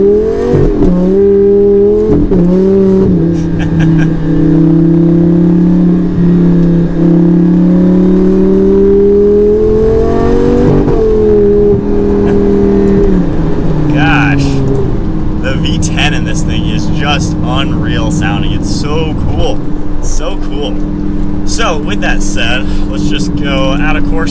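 A Lamborghini Gallardo with a single-clutch gearbox in manual mode accelerates, its loud engine drone climbing in pitch, then breaking at a gear change before pulling hard again, close and constant throughout.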